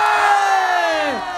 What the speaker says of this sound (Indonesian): Kita tes dulu deh tepuk tangannya siapa yang bakal menang ya.